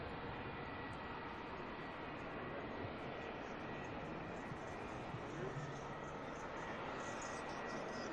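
A Royal Thai Air Force Airbus A340-500 moves at Auckland Airport, its jet engines a steady, distant broadband roar that holds evenly for about eight seconds without talk.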